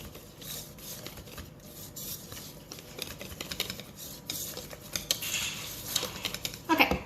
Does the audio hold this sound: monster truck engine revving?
no